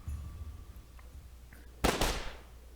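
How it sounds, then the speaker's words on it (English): Two gunshots ring out close together in the visual novel game Secret Game: Killer Queen, a sharp pair of cracks echoing through a room after a quiet, low rumbling stretch. "There were 2 gunshots."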